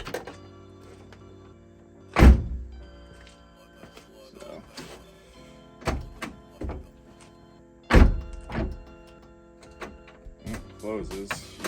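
A Nissan 370Z car door thumps shut with a heavy clunk, then later another solid thunk, amid quieter latch clicks and mechanical rattles nearby.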